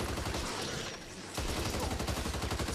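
Dense gunfire from the Back 4 Blood video game, a steady rapid burst of shots with a brief dip in the middle before the firing surges back, loud and continuous with no talk over it.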